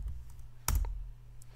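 Keys clatter on a computer keyboard as a stop command is typed to halt a home Minecraft Bedrock server, one sharp close click standing out over a low steady hum, with a few fainter taps around it.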